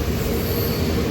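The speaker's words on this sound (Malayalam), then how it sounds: "അങ്ങനെ എറണാകുളം ടൗൺ റെയിൽവേ സ്റ്റേഷൻ എത്തി" A train at Ernakulam Town railway station gives a loud, steady rumble of rolling rail cars with a faint wheel squeal, close by and continuous, with no voices.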